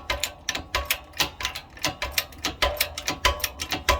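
A wheel bearing is pressed onto a hub spindle, giving a rapid series of sharp metallic clicks and ratcheting knocks in an uneven rhythm, close and moderately loud with no speech.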